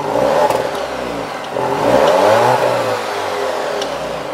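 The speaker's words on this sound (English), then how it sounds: "But let's go ahead and listen to that exhaust." A 2020 Alfa Romeo Giulia Sport with a dual exhaust revs up loud and close, rising twice and then falling back to a steady idle.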